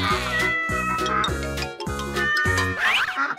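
Cat meowing repeatedly in a cartoon-style sequence, several close, loud, drawn-out meows with a caterwauling quality over a continuous musical background.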